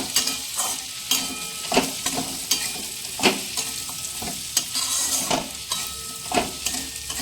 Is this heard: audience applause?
no